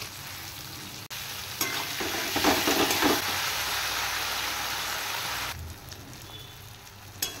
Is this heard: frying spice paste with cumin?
yes